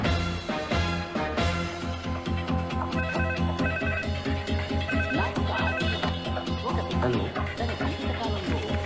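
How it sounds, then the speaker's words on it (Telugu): Telephone ringing in an office scene, a repeating electronic ringtone pattern in steady pulses over background music, moderately loud throughout. "నీకు ఫోన్."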